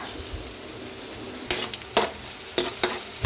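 Ginger sautéing in a hot pan as the first step of a Filipino fish-head sinigang sa miso, a steady soft sizzle and frying hiss with a few sharp stirring scrapes and clinks of a utensil.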